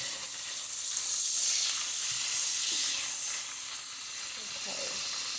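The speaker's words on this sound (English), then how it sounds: "I will add in my tomatoes and onion, blended tomatoes and onion into the combination." Blended tomatoes and onion hit a hot pan of frying beef, giving a steady loud sizzle and hiss that eases slightly partway through, with no talking.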